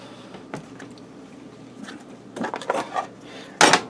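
A Ninja Foodi lid is handled and lifted off, producing scattered clattering knocks and a sharp, close metallic clank near the end.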